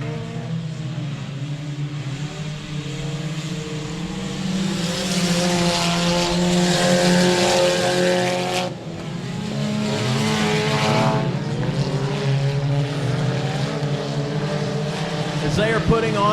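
Several 4-cylinder race cars battle for the lead in an A main at 67 Speedway in Texarkana, their engines droning loudly and continuously, with pitches rising and falling as they pass through the turns.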